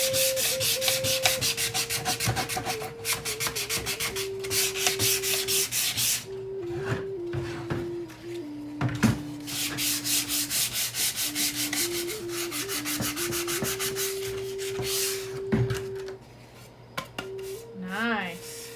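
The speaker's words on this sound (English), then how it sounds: "See how the grit's getting finer and finer, so we're creating more and more sawdust, but of course fine sawdust." A wooden shelf bracket sanded by hand with sandpaper, continuous close rasping strokes in a brisk back-and-forth rhythm, with a steady tonal hum running underneath.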